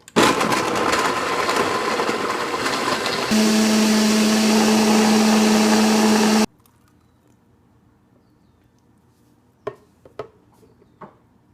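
A blender whirs loudly as it mixes a vegetable and beet smoothie, first at one speed and then at a higher, steadier pitch, before cutting off abruptly. A few faint clinks follow in the quiet.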